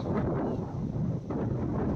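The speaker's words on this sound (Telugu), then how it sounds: "గాలి తగులుతూ ఉంటుంది, అడల సౌండ్లు వస్తూ ఉంటాయి" Sea wind buffets the microphone on a beach in Goa, a dense low rumble with a continuous roar that may include breaking waves, loud and steady throughout.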